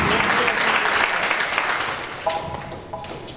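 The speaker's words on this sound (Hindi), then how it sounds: "भरपूर तालियां" Audience applause at a Click2Print team seventh-anniversary get-together in Lahore, Pakistan: a dense wash of clapping that fills the room and slowly thins, with a couple of brief tonal pings near the end.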